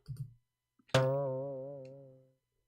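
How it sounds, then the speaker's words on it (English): A single springy boing rings out after a brief murmur, its wobbling tone sustaining and slowly fading over more than a second. "This is the sound of the heart, by the way. Boing"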